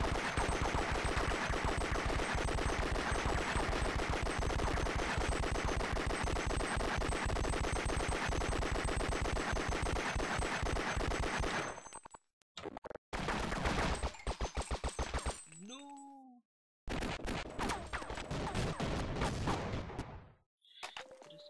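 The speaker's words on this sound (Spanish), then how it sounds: "Escucho disparo y no sé de dónde carajo se" Sustained rapid automatic gunfire from the game Half-Life rattles loudly for about twelve seconds, then breaks into shorter bursts separated by sudden silences, with a synthetic game-like quality.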